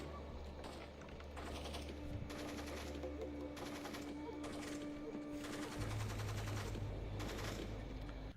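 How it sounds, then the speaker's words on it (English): A machine-gun turret in the stealth video game Splinter Cell Pandora Tomorrow fires in rapid, rattling bursts, several long volleys separated by brief pauses over a steady low game hum. "we got a turret"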